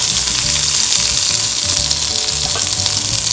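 Grated coconut with mustard seeds frying in a couple of spoons of coconut oil in a pan: a loud, dense, steady sizzle and crackle heard up close without a break.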